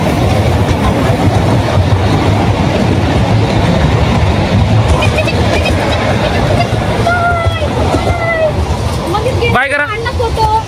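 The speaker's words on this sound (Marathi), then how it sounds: "हे बघा ट्रेन गेली" A train rumbles past at Daman in a loud, continuous roar of rolling wheels and clatter that fills the whole stretch, with a brief shrill squeal near the end and people talking nearby.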